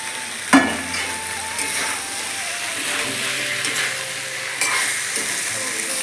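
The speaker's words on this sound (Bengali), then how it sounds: "পনির আর ফুলকপিটা ভালো করে নেড়ে ফেলে" Fried paneer and cauliflower stirred in an oily pan, a steady close sizzle with scraping spatula strokes and a sharp clatter near the start, no talking.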